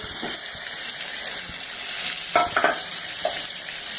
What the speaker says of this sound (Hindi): तो हम इसमें चिकन डाल के इसको थोड़ा भूनेंगे।